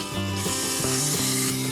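Sandpaper held against a wooden pen blank spinning on a lathe at reduced speed, giving a steady close rubbing hiss over the lathe's motor hum.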